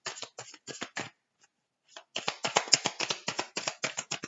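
Tarot-style cards laid down one after another during a card reading, a run of crisp slaps and swishes with a brief pause before a faster, steady sequence, close by and alone.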